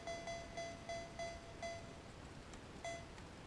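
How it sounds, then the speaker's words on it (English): A mobile phone's electronic ringtone, a quiet repeated series of short high beeps in a regular pattern, pausing briefly before one more burst. "Sorry about that, guys, my phone's ringing."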